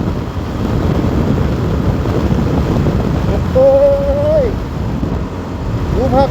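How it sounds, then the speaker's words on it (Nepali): Steady, loud wind roar buffets the microphone while riding a motorbike through the Kalangi underpass, with a brief tonal whine rising near the end. "गुफाको जस्तै हावा"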